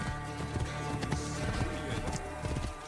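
Steady clip-clop of horse hooves at a brisk pace, layered over a dense music-like background, in the video game Assassin's Creed Origins.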